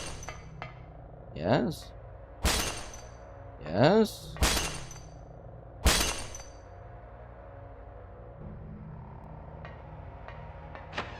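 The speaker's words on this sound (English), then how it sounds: "Why do I just keep hearing like glass breaking?" Glass shattering in a horror video game: a few sharp, loud crashes spaced several seconds apart, with a streamer's voice speaking briefly between them.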